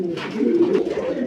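Kaldoma pigeons coo in a loft, a close, steady stream of soft throaty burbling with no voices over it.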